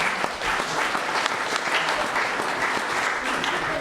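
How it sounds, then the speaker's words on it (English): An audience at a panel event bursts into steady, sustained applause for Mark, a dense wash of clapping hands that holds at even loudness throughout. "Let's give him a nice round of applause."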